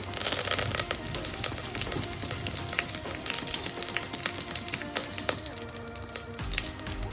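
Mustard seeds, cumin and curry leaves fry in hot oil with a dense, steady sizzle, crackling and popping up close, and a few stirring scrapes run through it.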